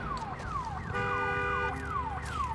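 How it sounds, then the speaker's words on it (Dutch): A car alarm sounds in the zombie survival video game Days Gone, loud and close, cycling through repeated falling sweeps with a steady pulsing tone in the middle, with no talk over it. "Oh, gaat het alarm weer af."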